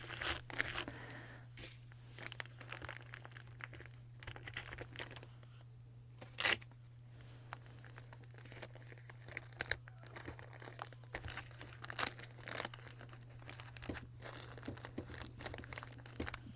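Tape torn and pressed onto a washcloth, a quiet, near string of crinkling and tearing rustles with a few sharper rips, over a steady low hum.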